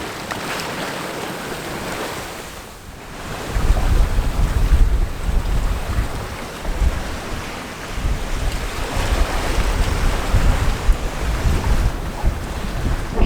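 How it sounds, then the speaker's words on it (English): Strong wind and breaking waves rush past a sailboat on a rough Atlantic crossing, with spray hitting the cockpit; loud, continuous buffeting with gusty surges and no voices. "with the wind coming straight into the cockpit, we don't get much protection from the spray hood"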